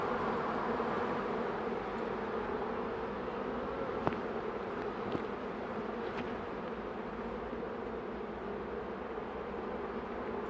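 A honey bee swarm drones in a dense, steady buzz close by, unbroken for the whole stretch, with a couple of faint clicks on top and no voices.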